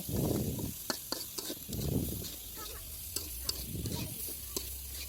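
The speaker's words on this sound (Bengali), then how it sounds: "এরপর ডিমটাকে ফেটিয়ে নিব ঝুড়ি ঝুড়ি করে ভেজে নিব" Beaten egg is scrambled and fried in a pan, with three rhythmic bursts of scraping and stirring over a steady, close sizzle and a few sharp taps of the utensil.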